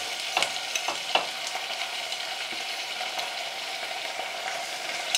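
Just over a kilo of tripe fries with smoked paprika in a pan, a constant dense crackling sizzle heard close up and broken by a few stirring clatters, with no talking.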